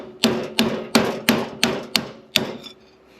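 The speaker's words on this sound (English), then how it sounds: "That's what hammers are for." Six sharp hammer blows ring out on metal in a steady rhythm, each strike leaving a short metallic ring, loud and close, freeing a stuck blower.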